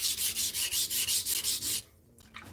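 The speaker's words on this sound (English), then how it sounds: "I need to grind a little bit more because I can still see my micro bevel at the edge" A knife blade edge is ground to remove its micro bevel, a loud rasping pass repeated about nine times in a steady rhythm, then a pause and one short scrape.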